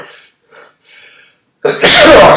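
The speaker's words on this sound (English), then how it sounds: "Excuse me, I'm going to sneeze." A man sneezes once, loud and close, with a few soft breathy intakes before the sudden explosive burst.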